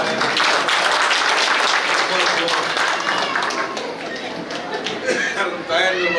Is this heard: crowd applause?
yes